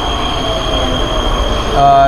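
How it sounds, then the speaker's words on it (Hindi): Tram ride through Prague heading to the central station, with a steady rumble of rails and wheels and a rising wheel squeal near the end; a faint voice is present beneath the noise. "आता ट्रामने सेंट्रल स्टेशनला जातो आहे"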